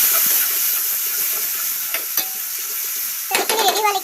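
Spices such as turmeric and cumin powder being stirred into a sizzling Assamese fish curry with tomato and potato, a steady hiss of frying with scraping spoon strokes, louder bursts of sizzle near the end, no talking.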